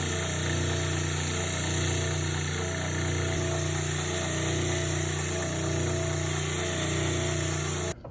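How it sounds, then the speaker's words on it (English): Power sander grinding down a bone ukulele saddle, a steady loud motor drone with a constant hum running unbroken for about eight seconds before cutting off at the end. "I drew a line where I want to trim my saddle, and I'll just come over and sand it"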